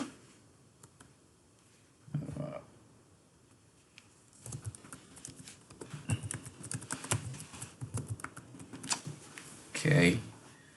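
Quick bursts of computer keyboard typing, close and moderately loud, in short clusters between pauses while someone talks through setting up a username and password.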